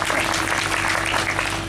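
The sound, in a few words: audience applause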